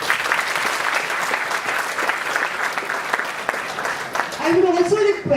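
An audience at an innovation talk breaks into a big round of applause welcoming a guest speaker, loud dense clapping sustained throughout, with a voice speaking over it near the end.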